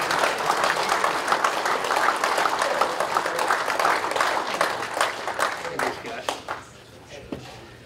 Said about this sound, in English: let's give a round of applause to the great Ted Takasaki